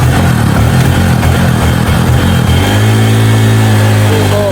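A motorcycle engine revs loudly up close, rough and throbbing, then settles into a steady higher-pitched drone for the last couple of seconds.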